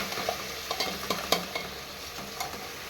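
Vegetables fry in a pan with onion, tomato, ginger and garlic, a steady sizzle broken by repeated scraping stir strokes and light clinks, close and with no talking.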